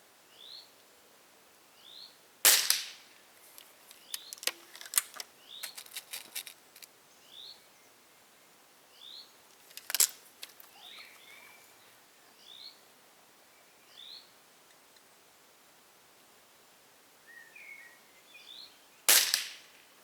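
FWB Sport air rifle with open sights firing pellets at 45 metres outdoors, a few sharp isolated cracks spaced several seconds apart, with birds chirping steadily in the background.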